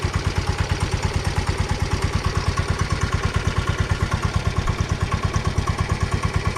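A tired old 12-horsepower engine idles steadily, its fast, even chugging pulses running close and loud throughout with a light mechanical clatter and no talking.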